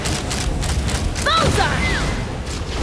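Weapons fire in a Genshin Impact battle, with rapid booming shots and bursts heard up close, plus whooshing game effects, a brief rising electronic tone and a voice calling out.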